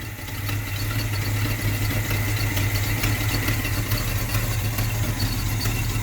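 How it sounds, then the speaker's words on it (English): A truck engine idles steadily at about 500 rpm with a low, rumbling drone throughout, holding an even pitch with a faint squealing whine on top. "She's idling about 500."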